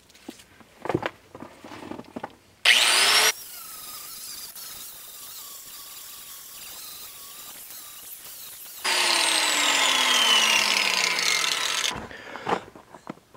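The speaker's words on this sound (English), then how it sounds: "Those grinding discs worked awesome." An angle grinder fitted with a sandpaper disc sands a wooden barn board in two loud bursts, a harsh whining scrape that spins down after each pass, with quieter knocks and handling noises between.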